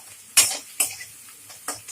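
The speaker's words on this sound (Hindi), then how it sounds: "अब इस मसालों को एक अच्छे से मिक्स करेंगे।" A metal spoon mixes salt, chaat masala and spices in a bowl, giving a few sharp close clinks and scrapes at irregular intervals against quiet background.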